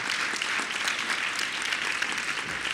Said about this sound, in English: Please give Kristalina a round of applause.